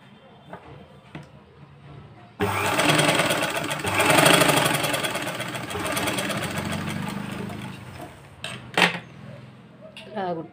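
Sewing machine stitching a blouse lining, a steady mechanical whir running close and loud for several seconds before slowing, with brief clicks near the end.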